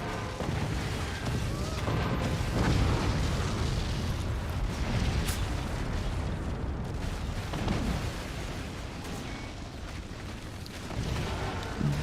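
Howitzer shells and laser fire hitting a base in the Forts strategy game: a continuous roar of rumbling explosions and crackling impacts, dense and loud with no clear breaks.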